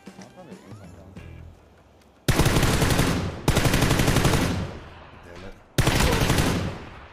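Loud bursts of automatic gunfire in the battle-royale game PUBG, three sustained volleys of rapid shots with brief gaps, following quieter in-game movement and faint background sounds.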